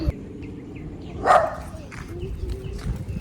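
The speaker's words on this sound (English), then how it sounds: "Somebody's dog a bark after me. Yeah. Little dog but angry." A small dog barks angrily outdoors in Jamaica, one sharp nearby bark standing out above low background noise with faint chatter around it.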